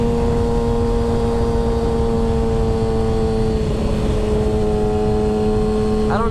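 A 600cc sport bike engine holds a loud, steady high-pitched whine with strong harmonics, sustained at high revs toward its 16,000 RPM redline, with a brief rise near the end.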